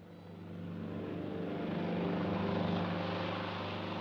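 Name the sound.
propeller plane engine, the plane to Lisbon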